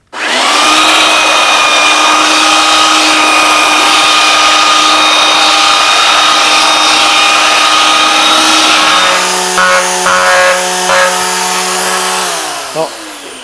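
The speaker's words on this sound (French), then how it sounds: "cette machine que j'utilise, qui est donc une petite ponceuse triangulaire" A small triangular power sander whines steadily and loudly throughout, its pitch dipping and shifting near the end as it works across a varnished parquet floor.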